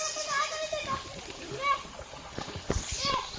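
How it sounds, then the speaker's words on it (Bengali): A pigeon bathing in water makes a few soft splashes and sloshes, mostly beneath nearby children's chatter and talking. "আর ওই কবুতর মামু গোসল করতে আইছে"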